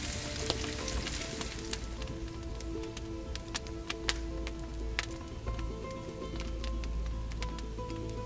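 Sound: potato stacks frying in a pan in a wood-fired oven

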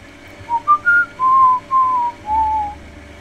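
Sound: person whistling

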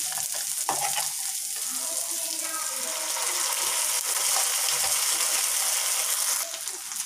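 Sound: ground masala paste added and frying in paneer masala gravy

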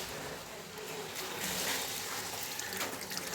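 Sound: washing a packet under running water

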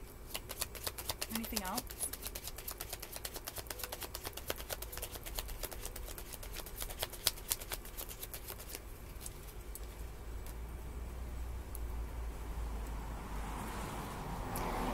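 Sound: shuffling tarot cards

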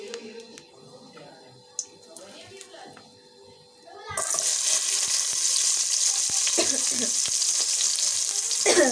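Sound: onions frying in hot oil

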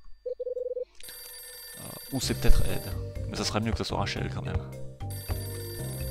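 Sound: telephone ringing in the video game Hotel Dusk

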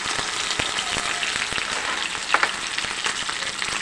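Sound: curry leaves and cashew paste frying in a pan

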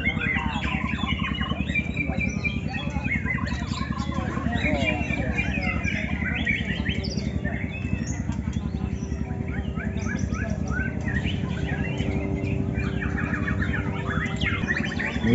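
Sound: white-rumped shama singing

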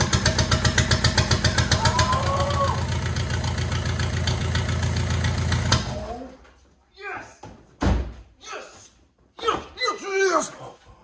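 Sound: Volkswagen TDI diesel engine starting and running

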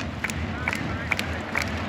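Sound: hockey arena crowd cheering

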